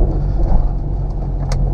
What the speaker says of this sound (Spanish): Aceleramos aquí, pues obviamente que el carro no se cuelgue